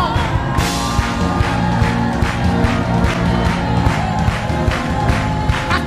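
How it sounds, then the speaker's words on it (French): A church congregation cheers and acclaims loudly, with whoops, shouts and rhythmic clapping swelling together in a sustained, roaring crowd sound that fills the room. "Reçois ces acclamations."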